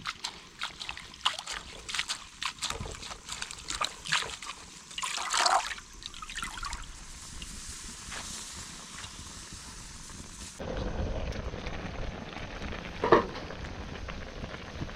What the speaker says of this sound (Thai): มาล้างผัก